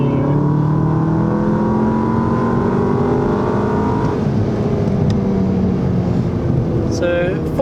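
A VW Golf MK7 GTI accelerating hard on kickdown, its engine note climbing steadily in loud rising harmonics, then easing near the end as a gear change comes in, up close from inside the car.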